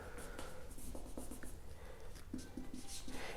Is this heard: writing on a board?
yes